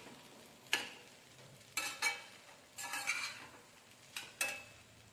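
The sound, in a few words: stir-frying kurdai vegetable dish in a pan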